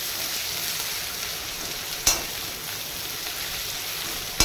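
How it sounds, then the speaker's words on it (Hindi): Onion pieces frying in a pan while making kosala saag bhaja, a steady hiss of sizzling oil throughout, close and even, with two brief sharp clicks or taps of a utensil. "दुई तीन मिनट तक आम प्याज के टिके भाजी दमा"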